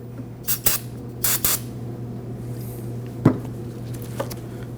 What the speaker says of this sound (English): Again, going to use some brake parts cleaner.